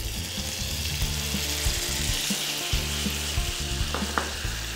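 Pineapple pieces in syrup sizzle on low heat and begin to caramelize, giving a dense, even bubbling hiss that holds steady at close range, with a few soft clicks near the end.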